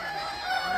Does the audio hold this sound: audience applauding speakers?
no